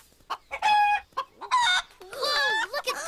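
A chicken clucks and crows in a run of bright, harmonic bursts up close, loud and repeated with short gaps, alone without talk.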